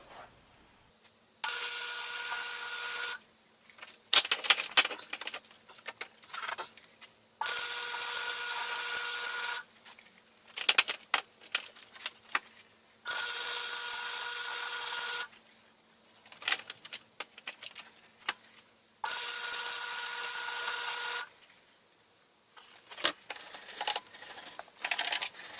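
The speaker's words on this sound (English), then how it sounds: "So I'm actually welding the hub to the axle" Repeated bursts of arc welding as a hub is welded onto a transaxle axle during a locker rebuild, each steady crackling run lasting a few seconds, separated by quieter clanks and handling noises.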